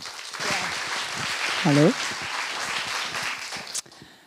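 An audience applauds to welcome a speaker at a photography talk, steady clapping from many hands, with a brief spoken greeting over it before the applause cuts off near the end.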